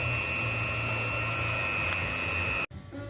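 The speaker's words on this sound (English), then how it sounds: "so I've got to weld this side now" A car bumper on an AE85/6 body is being welded, giving a steady, loud electric buzz with a constant hum that runs unbroken and then cuts off abruptly near the end.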